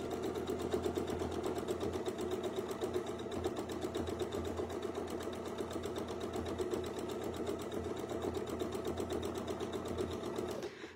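Sewing machine running continuously while stitching a quilt border, a fast even mechanical whir and rapid needle chatter, close and steady, with no talking.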